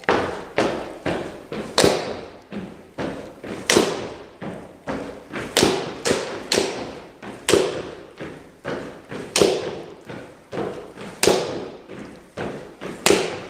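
A drum struck in a steady run of loud, close, dull thuds played as doubled strokes, two hits to each beat, with no talking.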